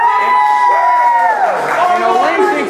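A wrestling crowd at a live WMWA show cheers and shouts loudly and close, a dense wash of voices rising and swelling over a few seconds.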